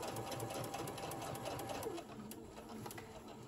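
A sewing machine stitches fabric for a bowl koozie, with a close, rapid, even mechanical clatter that runs steadily throughout.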